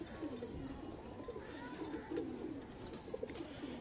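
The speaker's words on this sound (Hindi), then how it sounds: "जो सलारा कबूतर आपको दिखाया अभी, ये मादा पट्टी है।" A female Salara teddy pigeon coos softly, low rolling coo phrases repeating amid faint background noise and distant voices.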